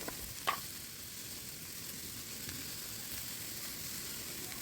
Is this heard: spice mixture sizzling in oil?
yes